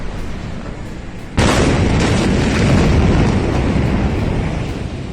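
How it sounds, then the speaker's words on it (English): The Beirut, Lebanon explosion of August 4: a sudden massive blast erupts after a low rumble, its roar sustaining loudly for several seconds before slowly fading. "A massive explosion rocked downtown Beirut, Lebanon on Tuesday, August 4th"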